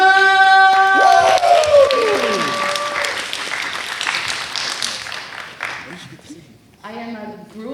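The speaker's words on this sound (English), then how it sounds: "Clap it up for Rye." A crowd at a stage event applauds and cheers as a guest is welcomed, loud sustained clapping with whoops and a tonal musical sting at the start, then a voice begins speaking.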